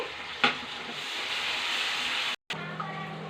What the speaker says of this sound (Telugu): ఇప్పుడు టమాటా ముక్కలు వేసుకున్నాం, ఉల్లిపాయ ముక్కలు వేగింది